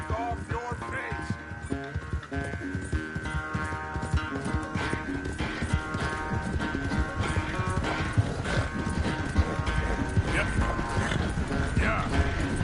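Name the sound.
horse hooves clip-clop in Red Dead Redemption II video game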